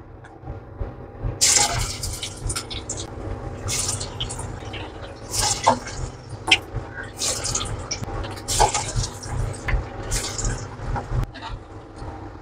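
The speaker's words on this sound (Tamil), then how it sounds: "இப்போ வந்து வடை போட்டல, எண்ணெய் சூடாகுது." Banana flower fritters (vada) hit hot oil, producing a bubbling, crackling sizzle that swells in irregular bursts and stays fairly close and loud throughout.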